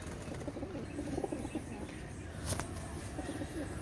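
Pigeons coo softly at a pigeon farm, low murmuring calls mixed with faint chirps and a brief flutter, all against a steady background hum.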